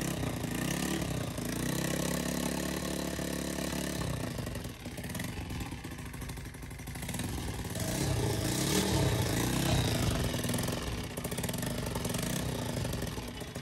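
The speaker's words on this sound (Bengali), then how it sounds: "ইঞ্জিন স্টার্ট হয়েছে, কিন্তু ইঞ্জিনের কিন্তু বাজে একটা সাউন্ড শুনতে পাইতেছেন।" A 125cc sports motorcycle under restoration starts and runs rough, its engine clattering steadily and fairly close, with uneven rises in level and no talking.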